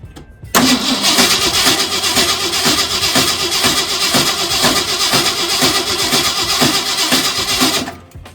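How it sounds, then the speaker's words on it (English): The engine of a 1971 Ford wrecker cranks without firing, a loud, close, continuous starter churn with a rapid rhythmic pulse lasting about seven seconds before it stops. "We should be ready to give this a crank and see if it fires up."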